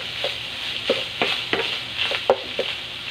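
Garlic, onion and carrots with oyster sauce stirred in a pan, a spoon scraping and tapping the metal in an uneven rhythm over a low steady sizzle, close and clear.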